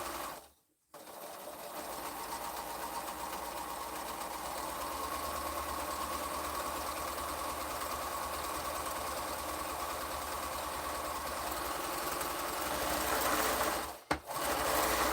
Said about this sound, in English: And we'll sew this last one, and then we'll move on to the next step.